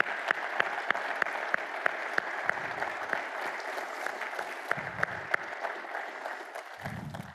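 A conference audience at the AAPA opening ceremony in Austin applauds the association's staff, a dense, steady wash of many hands clapping with a few sharper nearby claps and some murmured voices underneath.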